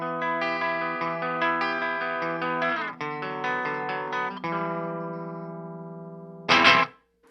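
Clean electric guitar played through a Mesa Boogie Badlander amp with the gain pulled back on an X2N pickup: ringing chords and single notes sustain steadily, then a short louder, brighter strum near the end.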